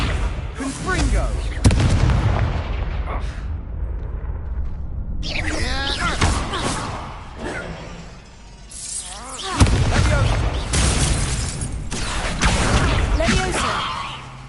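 Confringo blasting spells go off in a Harry Potter video game, a string of loud booming bursts and crackling impacts recurring every few seconds amid chaotic action, with speech running through the clip.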